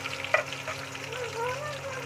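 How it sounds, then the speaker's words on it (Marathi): Curry leaves are stirred in a hot pan for a Konkan jackfruit dish, a soft sizzle and scraping under a faint background hum, with one brief clink early on and a faint tonal whine toward the end. "आणि कढीपत्ता आता मिक्स करून घ्यायचं थोडं"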